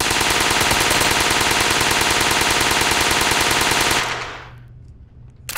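A Russian gun in the VR shooting game Gun Club VR fires a long, rapid, continuous burst, loud and close for about four seconds, then cuts off and trails into a quiet tail.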